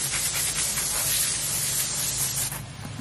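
A spray of water rinses something beside a small patio pond, a steady hissing jet lasting a few seconds before it tapers and drops off near the end.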